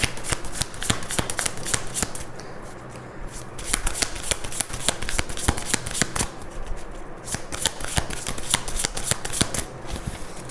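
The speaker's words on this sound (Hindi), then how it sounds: "पहले मैं सारे कार्ड्स निकाल देती हूँ" Tarot cards being shuffled and drawn, a close, steady run of quick riffling flutters and sharp card flicks repeating throughout, with no voices.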